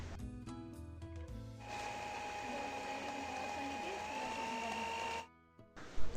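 Sugar is beaten into cake batter for a date cake. A few mechanical clicks lead into a steady whirring beat that runs for several seconds, then stops abruptly, followed by a couple of knocks.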